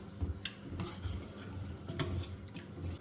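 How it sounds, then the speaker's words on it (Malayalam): A spoon scrapes and stirs thick garlic chicken gravy in a pan, soft repeated strokes with faint wet sloshing, quiet and close. "വീണ്ടും നന്നായിട്ട് ഇളക്കി കൊടുക്കാം"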